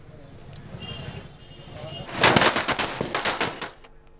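A rapid volley of celebratory election fireworks crackles and pops in quick bursts over a busy outdoor crowd murmur at a street intersection, loudest midway before trailing off.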